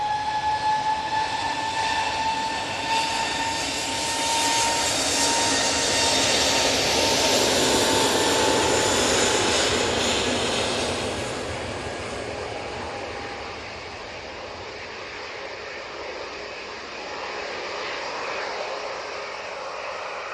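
EasyJet airliner taking off from a Manchester Airport runway, a long broad jet roar that swells and peaks midway, then slowly recedes into the distance.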